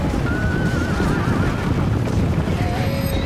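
Horses whinny and neigh amid battle noise in a fantasy strategy game as dwarf infantry rout a horse army, several shrill calls over a dense rumble of combat.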